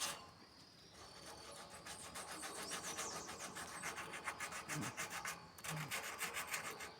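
Steady rhythmic rasping of sandpaper on a homemade iron fireplace being cleaned of rust, close and continuous with repeated strokes and no talk.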